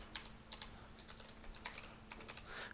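Quick, light keystrokes on a computer keyboard while writing Pascal code, a quiet run of irregular clicks close to the microphone with no talk.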